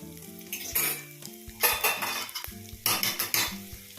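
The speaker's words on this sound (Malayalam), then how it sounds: "നെയ്യൊന്ന് ചൂടായി വന്നിട്ടുണ്ട്. അപ്പോൾ ഇതിലേക്ക് 1 ടേബിൾ സ്പൂൺ ഉഴുന്ന് പരിപ്പ് ചേർത്ത് കൊടുക്കാം." Urad dal is stirred into hot ghee in a metal pan, with sharp spoon scrapes and clinks in bursts over a light sizzle, loud and close with no talking.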